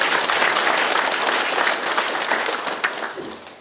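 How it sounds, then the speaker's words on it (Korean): Sustained applause from a local residents' meeting audience in Hupo-myeon, Uljin, a dense wash of many hands clapping loudly, steady at first and then thinning and fading toward the end, with no voices heard. "큰 박수를 다시 한번 부탁드립니다."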